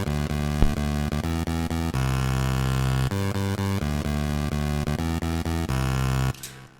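Synth bass layer played dry without effects in FL Studio for a progressive house track, a loud rhythmic sequence of short stabs and sustained notes with rich harmonics, alone, cutting off near the end.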